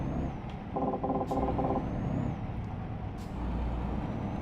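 A rapid series of electronic collision warning beeps in quick bursts sounds over the low hum of a truck engine in Euro Truck Simulator 2.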